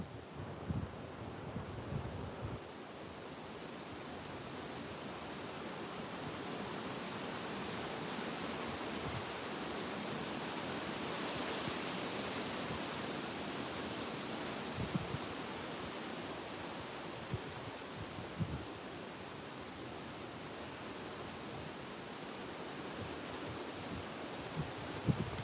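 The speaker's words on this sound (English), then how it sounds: "There's that wind blowing now, isn't it?" Wind blowing through a forest, a steady broadband rushing that swells and eases over nearly half a minute, with occasional low buffeting gusts on the microphone and no talk.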